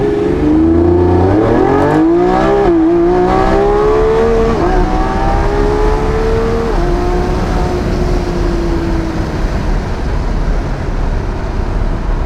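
A Lamborghini Revuelto's V12 roars through a hard launch from inside the cabin, loud and sustained, its engine note climbing in rising sweeps through several quick upshifts before settling into a steady high-speed drone.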